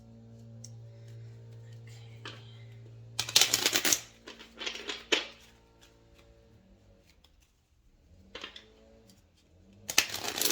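A deck of playing cards is shuffled on a table in a few short crisp riffling bursts, separated by quiet gaps over a low steady hum.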